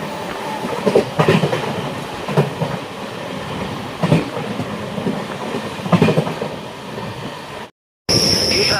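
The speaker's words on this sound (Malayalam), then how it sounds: "നല്ല സ്പീഡിൽ തന്നെയാണ് ട്രെയിൻ പോകുന്നത്" Heard from aboard the Ernakulam–Velankanni Express, the train rumbles along the tracks at speed, with rhythmic clacking bursts from the wheels and a steady rushing roar throughout.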